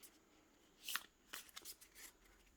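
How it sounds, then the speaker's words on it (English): Small tarot cards being shuffled by hand: a few quick, soft riffling bursts and light papery flicks, close but very faint, with no talking. "think of a question in your mind while I shuffle these"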